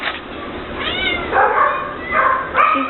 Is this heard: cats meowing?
yes